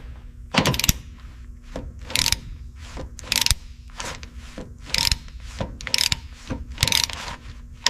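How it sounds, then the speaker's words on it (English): Torque wrench ratcheting on the gearbox mounts of a WWII M4 Sherman tank, repeated sharp bursts of clicking in a steady rhythm, close up with a faint hum between strokes. "We're using the torque wrench here to ensure the 75mm mounts are secured to spec"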